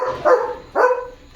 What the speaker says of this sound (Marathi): ऐ येड्या, गाड्यांना भुंकवतोस?